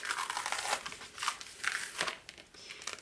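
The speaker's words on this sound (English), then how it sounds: "I can just peel this off" Vinyl stencils peeled off a Silhouette Cameo cutting mat make crinkly, tearing rustles that come in several drawn-out pulls, close and moderately loud.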